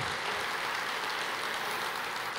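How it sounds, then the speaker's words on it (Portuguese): A church congregation bursts into sustained, fairly distant applause for the Lord, a thick, even roar of many hands clapping that stays level throughout without any voices rising above it. "Aplauda o Senhor."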